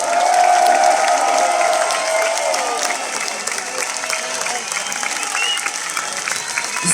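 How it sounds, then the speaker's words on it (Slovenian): Large outdoor crowd on Ljubljana's Congress Square applauding and cheering the Slovenian national football team after the Euro, a dense, sustained wash of clapping with occasional whistles and voices throughout. "Dajmo še enkrat velik aplavz za slovensko nogometno reprezentanco."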